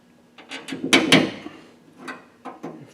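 Small metal clip pried off the rod at the inner door handle of a 1970-81 Camaro door, giving a few close, sharp clicks and rattling scrapes in quick succession.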